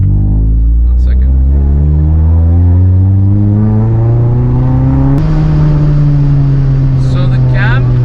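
A Honda City's VTEC petrol engine revs hard past 5,000 RPM, its loud, close whine climbing steadily in pitch and then jumping sharply partway through before carrying on at a higher, harsher tone.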